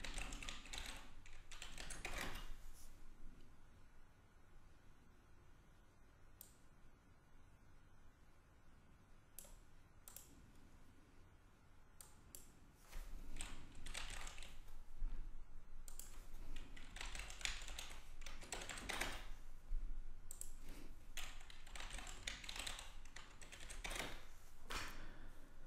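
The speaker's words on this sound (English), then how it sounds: "So do Ctrl-Alt-Delete from the menu item and type in the password." Keystrokes on a computer keyboard as a password is entered at a Windows Server 2012 login, in scattered bursts of clicks over a low room hum with pauses between.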